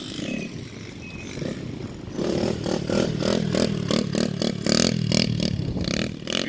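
A small geared dirt bike rides past during an outdoor riding lesson, one rider popping a wheelie. Its engine is quiet and distant at first, then loud and close in rapid revving pulses that hold steady to the end.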